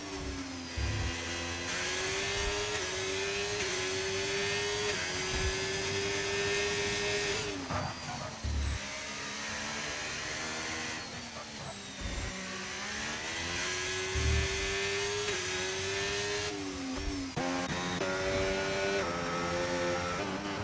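Simulated F1 racing cars in an F1 25 online league race roar continuously with high whining engines that rise and fall through gear changes and throttle lifts, loud and close with steady harmonic tones.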